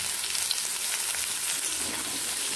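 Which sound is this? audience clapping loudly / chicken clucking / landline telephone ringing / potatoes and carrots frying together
potatoes and carrots frying together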